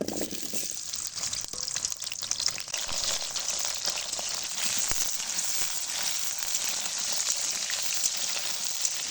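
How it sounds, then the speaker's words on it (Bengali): Potatoes fry in oil for a chicken biryani, making a soft, even hiss like light rain, faint and continuous throughout with a few small pops and no voices. "প্রথমে আলুগুলো ভেজে নেব।"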